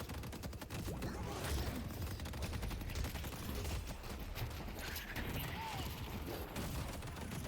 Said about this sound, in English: I'm able to just E-Shift all of Haze's bullets right there.